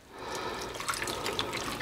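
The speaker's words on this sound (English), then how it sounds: "I'm going to add about a cup of water on top of this" About a cup of water being poured onto frozen raspberries in a pot, a soft steady splashing trickle with small dripping accents, fairly quiet and close.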